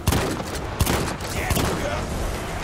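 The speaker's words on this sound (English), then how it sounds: "I'm standing right in his friggin' face and shooting him" Rapid gunfire in the World War I shooter Battlefield 1, with dense overlapping shots and sharp cracks that keep going through the whole stretch under a loud battle din.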